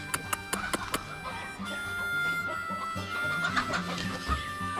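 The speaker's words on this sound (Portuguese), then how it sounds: "As galinhas estão na treta." Chickens clucking and a rooster crowing at a country smallholding, a busy flock chattering steadily at middle distance over outdoor background noise, with a few sharp knocks near the start.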